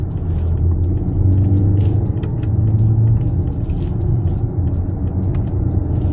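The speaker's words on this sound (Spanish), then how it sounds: "Y es un coche que ya automáticamente entra el motor en pleno en funcionamiento" A 2026 Opel Grandland PHEV plug-in hybrid in Sport mode accelerates as its combustion engine engages, giving a loud, steady in-cabin engine rumble without speech.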